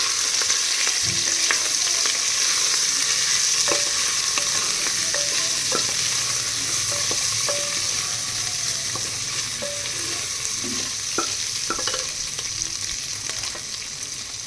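Stuffed brinjal frying in oil in a pan while being stirred, with a steady bright sizzle throughout and intermittent soft scrapes and knocks of the spoon against the pan.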